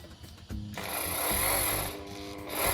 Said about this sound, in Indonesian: Ini kita baut atas bawah, dikasih 2 baut ya.